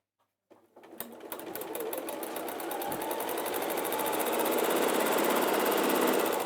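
A sewing machine stitches a panel of a bag kit, running in a steady rapid whir that starts abruptly and holds close and loud to the end, with no talking.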